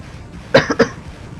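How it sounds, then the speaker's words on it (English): A single sharp cough in two quick bursts, close and alone against a quiet background. "sorry, I coughed there"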